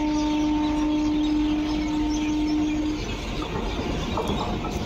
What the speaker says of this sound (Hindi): train आसीगला low train आसीगला low आईगला train